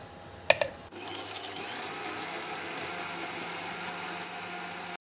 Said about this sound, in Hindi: हम इसको अब कर लेंगे ब्लेंड।